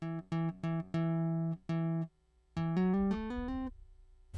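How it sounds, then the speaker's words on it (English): Clean, direct electric guitar played through a cabinet on a MOD Duo pedalboard rig: a run of short, separate plucked notes, then a held chord and a rising sequence of sustained notes, loud and alone. "So this is what the cabinet alone sounds like."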